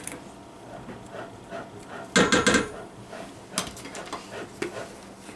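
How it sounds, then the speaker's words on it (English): Scraping and rasping bursts of bar soap being shredded on a grater, with clinks and clatter of kitchen utensils between them. "That's my husband shredding up some soap for me for some laundry soap I need to make."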